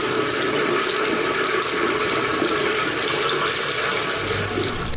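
Water gushes steadily from a faucet, a loud, continuous broadband rush with no pauses, heard alone without any voices.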